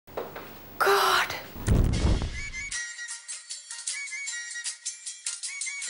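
An electronic phone ringtone plays in a repeating melodic pattern after a brief burst of noise and movement, fairly clear and close.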